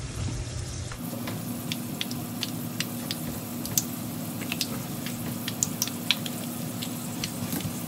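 Green chilli pakoras dropped into hot frying oil, a close steady sizzle with scattered sharp pops and crackles after an initial quiet moment.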